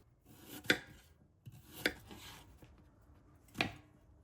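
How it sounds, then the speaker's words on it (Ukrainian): Carrots being cut into rings with a kitchen knife on a board: three sharp, close chops, spaced unevenly, each a crisp knock against quiet room tone. "Нарізаємо моркву кільцями."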